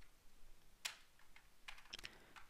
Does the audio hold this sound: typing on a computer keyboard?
yes